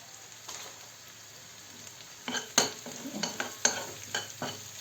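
Onions with a large carrot frying in a pan for fish in tomato sauce: a quiet sizzle is broken by a run of clattering stirring strokes in the second half, close and with no voice.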